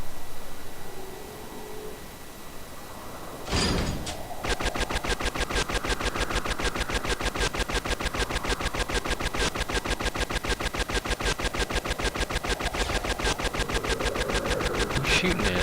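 Gunfire in a Star Wars video game: one short burst, then sustained rapid automatic fire that hammers loudly and steadily for more than ten seconds, dense and continuous.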